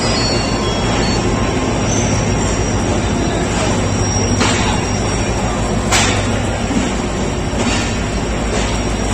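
Steady, loud broadband rumble and hiss of the Millat Express standing at Hyderabad Junction railway station in Pakistan, with a continuous low drone, occasional sharp clanks and faint background voices.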